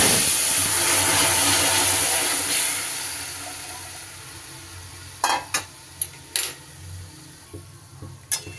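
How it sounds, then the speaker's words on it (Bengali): Broth poured into neem leaves frying in a pan, a broad hiss and bubbling sizzle that fades over a few seconds, followed by several sharp clinks of a spoon or ladle against the pan. "সুন্দর করে ভাজা হয়ে গেলে এবার আমি ঝোলটা এর মধ্যে ঢেলে দেব।"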